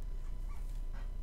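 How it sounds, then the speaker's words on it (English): A tamed dog in the video game Minecraft whimpers and yips in a short, close burst of small canine sounds over a steady low background hum. "We got a doggy."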